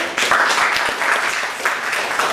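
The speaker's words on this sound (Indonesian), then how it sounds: "Sekali lagi kita beri tepuk tangan kepada kelompok 1." A classroom of students claps for a presenting group, a short burst of fairly close, lively applause with scattered individual claps.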